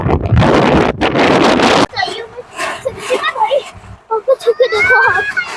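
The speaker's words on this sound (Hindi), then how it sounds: "इतनी तेज हवा चल रही है यहाँ पे।" Strong stormy wind on a hilltop viewpoint at Naddi in Himachal roars hard against the microphone for about two seconds, then keeps buffeting in gusts while someone speaks.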